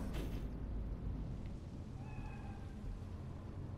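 A cat meows in the video game Cyberpunk 2077, a few soft mid-pitched calls heard faintly over a steady bed of rain and low rumbling ambience.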